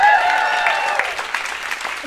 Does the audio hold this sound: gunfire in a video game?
no